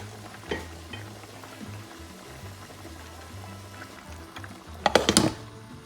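Chickpea stew with beef feet and bay leaf cooks on medium heat, giving a quiet, steady simmering sizzle over a low hum, with a brief burst of clattering near the end.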